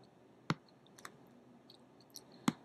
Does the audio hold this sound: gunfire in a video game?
no